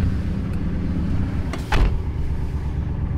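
A new car with a six-speed gearbox pulls away, producing a steady low engine and road rumble throughout, with a brief louder swell near the middle.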